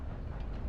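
Moving train in a Red Dead Redemption roleplay game, a brief low, steady rumble of rolling carriages, soft and continuous.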